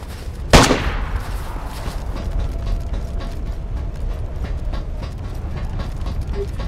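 A single sharp gunshot rings out loud and close in a DayZ match, followed by a fading echo and then a steady mechanical rumble with light clicking and rattling underneath, no voices.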